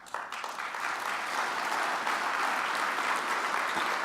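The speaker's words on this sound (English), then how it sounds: "You realize every time you clap, this takes longer" Sustained applause from an audience at a retirement gala, a dense steady wash of many hands clapping that swells quickly and holds loud throughout.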